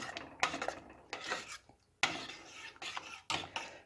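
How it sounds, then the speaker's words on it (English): A spoon stirs fruit sauce with cinnamon and brown sugar in a pot, giving close, repeated scraping and clinking against the metal in uneven strokes, with brief pauses between bursts and no voices. "We'll get all that cinnamon mixed in there,"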